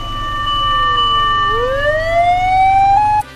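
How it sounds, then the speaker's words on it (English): A Japanese fire engine siren wails loudly and close, its pitch sliding down then climbing back up in one long sweep before cutting off abruptly. "Let's hear a shobosha siren."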